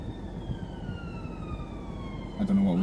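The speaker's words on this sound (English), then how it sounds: "Now, sirens. Ambulance coming from behind." An ambulance siren sounds from behind a car on a dual carriageway, a faint, steady wailing tone held over the low rumble of road noise.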